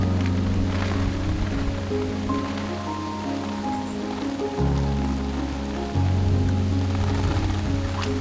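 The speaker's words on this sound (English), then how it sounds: "the spring rains arrive and they hit us hard" Heavy spring rain falling hard, a dense steady hiss of drops with a low continuous rumble beneath, loud and close throughout with no voices.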